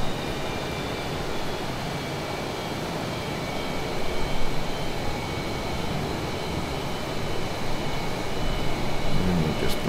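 An F/A-18 jet in a flight simulator game flies low over the Colorado Rockies, its engine a steady, loud broadband roar with a faint whine that swells slightly midway and near the end.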